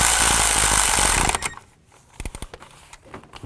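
Power tool tightening a nut on a coil bracket of a 2000-2006 Chevy Tahoe: a loud steady whirring burst that cuts off, followed by several short clicks and knocks of tool and parts.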